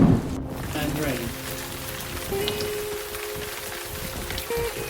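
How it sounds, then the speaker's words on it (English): Rain pours down over a village near the River Wye at the end of October, a continuous textured patter with a soft low hum running beneath and a sharp sound at the very start. "At the end of October, it rained."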